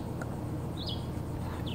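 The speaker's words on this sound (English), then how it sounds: "Birds are chirping." Birds chirp faintly in the distance on a morning in St. Augustine, Florida: a few short, high calls over steady low background rumble, with no talking.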